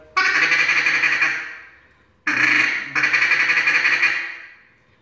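A duck call blown for a quack: three loud, raspy, nasal blasts, the first and last trailing off, heard up close and alone with no talk.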